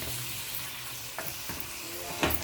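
Seasoned steak strips frying in a pan for lomo saltado give a steady, close sizzle, broken by a few sharp utensil clicks.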